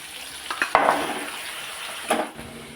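Mutton tossed into a pan of browned onions for a cauliflower curry, with a soft steady sizzle and a few sharp clatters of a spoon against the pan as it is stirred.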